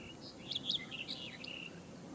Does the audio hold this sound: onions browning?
no